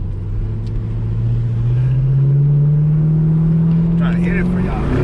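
A 2010 Chevy Camaro SS, a Switchblade Silver Metallic car on 22-inch wheels, revs its engine close by with a steady rising drone that climbs in pitch. A voice speaks briefly near the end.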